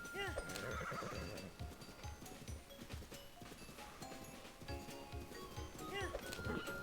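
A horse in Zelda: Breath of the Wild whinnies twice against constant in-game ambience and hoofbeats, the neighs clear but moderately loud over the busy background, with someone talking over parts of it.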